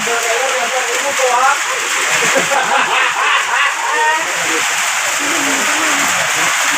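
Steady rain hissing and pattering all around, loud and continuous, with voices talking over it.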